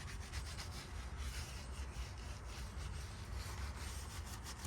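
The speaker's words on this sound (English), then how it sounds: "Steering wheel definitely needs to get scrubbed down, just because it gets so much grime compared to everything else." A brush or cloth scrubs a grimy BMW X3 steering wheel during interior detailing, giving a close, continuous rubbing rasp in quick repeated strokes.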